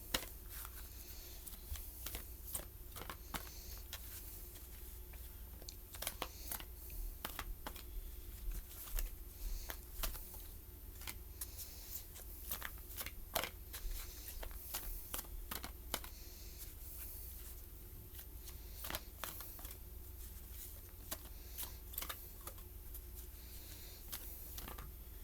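Oracle cards being shuffled in a card reading, a long run of soft, quick riffling clicks and pats at low volume against a quiet room hum.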